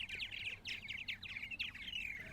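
Purple martins paired up at their nesting cavities on eastern Long Island in spring, a continuous flurry of gurgling chirps and warbles, close and fairly clear, with no voices.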